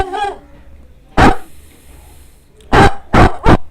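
A kids' programming app plays a recorded dog bark: one loud single bark, then after a pause three quick barks in a row, close and clear with quiet gaps between.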